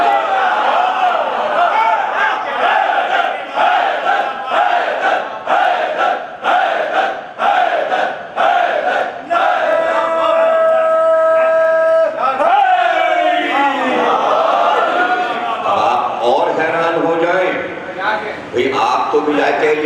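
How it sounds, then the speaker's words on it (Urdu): Large audience at a religious majlis chanting slogans in unison, rhythmic repeated crowd shouts that build into a sustained loud collective roar, with a voice leading. "آپ تو ولایت علی پر ہیں تو آپ تو نعرے بھی لگا لیتے ہیں"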